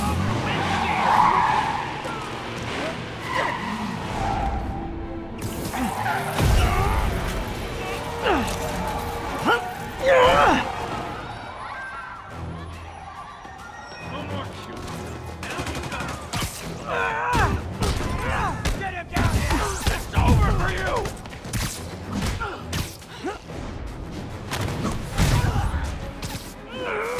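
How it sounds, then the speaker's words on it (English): Marvel's Spider-Man open-world action with prisoners firing from stolen vehicles at Union Square: loud skidding tires, revving car engines, crashes and bursts of gunfire layered under radio chatter and shouted voices. "All units, prisoners are opening fire from stolen vehicles."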